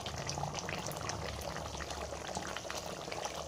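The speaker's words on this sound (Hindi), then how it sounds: "1/2 पैकेट इसमें हम क्रीम का डालेंगे" Half a packet of cream pours into a simmering chicken karahi gravy, a close, steady liquid splash over the bubbling of the pot, continuous and fairly quiet.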